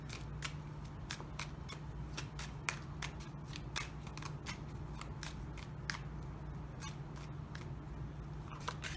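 Tarot cards are shuffled in a rapid run of crisp clicks and snaps that continues steadily throughout, faint and close over a low background hum.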